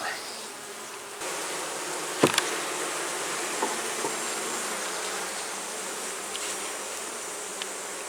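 Honey bees swarm around an open beehive during a hive inspection, giving a steady, dense buzzing that fills the whole stretch, with a few brief knocks and no talking.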